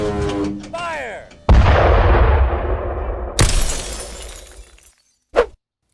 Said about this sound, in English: You can even hit them with a tank shell.